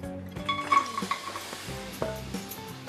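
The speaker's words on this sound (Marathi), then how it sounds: "चला पुन्हा एकदा आपण 1 चम्मच तूप घालूया आणि ह्यामध्ये आपण गूळ घालूया" Jaggery dropped into hot ghee in a pan for turmeric-leaf patolya, sizzling and frying while a spoon stirs and scrapes, with soft clinks against the metal, close and steady over about three seconds.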